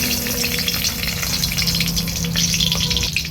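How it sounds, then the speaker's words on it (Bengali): Bay leaves dropped into hot oil in a pan while cooking a vegetarian raw banana curry, giving a steady loud close sizzle and crackle with no talking. "তেল গরম হয়ে গেছে, এবার আমি দিয়ে দেবো তেজপাতা"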